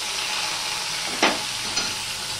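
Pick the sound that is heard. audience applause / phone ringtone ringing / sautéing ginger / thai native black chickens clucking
sautéing ginger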